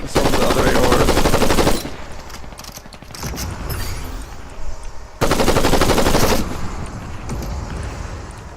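An assault rifle in Fortnite fires two long, loud, rapid automatic bursts close by, each lasting over a second, separated by quieter clicks and mechanical handling noises.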